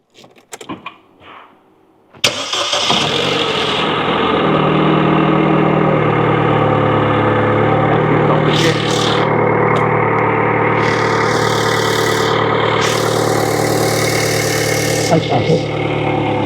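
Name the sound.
car engine starting and idling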